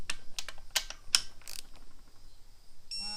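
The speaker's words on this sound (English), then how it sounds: "we're going to torque these bolts down, the two idler pulleys and the tensioner" Sharp metallic clicks and ratcheting taps from a torque wrench set to 39 newton meters, tightening two idler pulley bolts and a tensioner bolt on a 2008 Subaru Impreza 2.5 during a timing belt install, a handful of separate close clicks with brief gaps.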